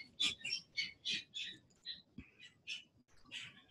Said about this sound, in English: the birds that I'm hearing behind me